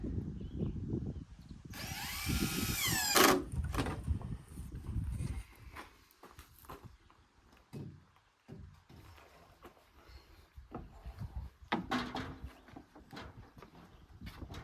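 A drill drives a screw into a 2x6 while building an addition to a small pallet cabin on the prairie, giving a short loud whining burst followed by quieter knocks and handling noise.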